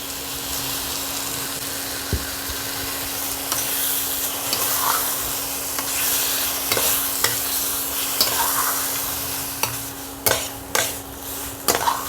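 A paste of coriander leaves, ginger and green chili is stirred into sautéed onion and tomato in a pan, with a continuous soft sizzle, scraping stirs and a few sharp clinks of a utensil against the pan toward the end.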